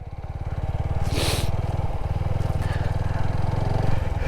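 A motorcycle engine thrums steadily at close range, a low pulsing drone with a brief burst of rushing noise partway through.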